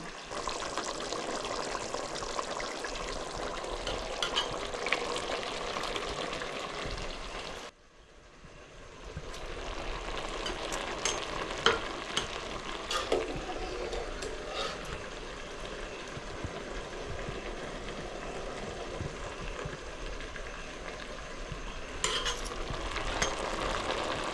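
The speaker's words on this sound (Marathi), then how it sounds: "आता आपण भात हा आपण टाकूया" Drained cooked rice goes into a pot of chicken biryani: steady stirring, sizzling and pouring sounds, broken by a brief quiet pause, then continuing with scraping and clatter.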